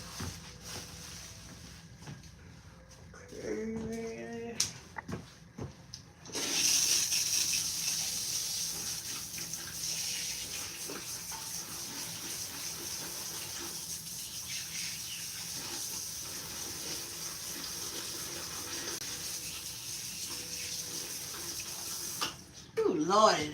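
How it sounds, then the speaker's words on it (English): Tap water runs steadily from a faucet while hands are rinsed, a continuous close hiss lasting most of the stretch, starting after a few faint knocks and handling noises and ending with a brief clatter. "Let me rinse my hands off."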